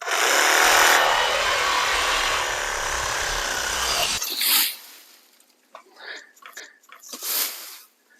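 A reciprocating saw buzzes loudly and steadily for about four seconds as it cuts through a hardy banana plant stem, then stops, leaving scattered rustling and soft thuds nearby.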